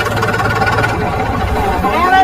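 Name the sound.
Solis 4515 tractor engine running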